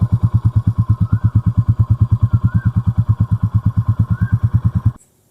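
A Royal Enfield Classic 350 in stealth black idles with a loud, steady single-cylinder thump, an even rapid pulse close by for about five seconds before cutting off abruptly.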